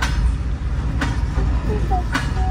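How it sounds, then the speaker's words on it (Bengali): A goods train rolls slowly past a waiting roadside crowd on the way to Vizag, a deep continuous rumble of wagons with a couple of sharp metallic clanks and squeals. "এই ট্রেনটায় মানুষ যায় না মা, এই ট্রেনটায় জিনিসপত্র যায় সব।"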